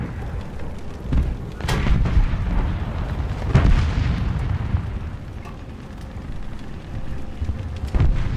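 Tank gun fire in the War Thunder video game: several deep, heavy booms spaced a couple of seconds apart, each with a sharp crack and rumbling tail over a constant low engine drone.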